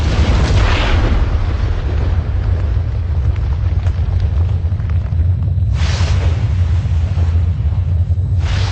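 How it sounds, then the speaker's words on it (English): Asteroids crash to Earth in a continuous deep rumbling roar of explosions, with heavy low booms and two sharper bursts rising out of the sustained thunder. "As the asteroids crashed to Earth, they smashed apart"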